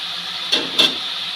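A small splash of water hits a hot pan of potato and leafy greens, giving two short, sharp hissing bursts of steam over a thin, steady background hiss.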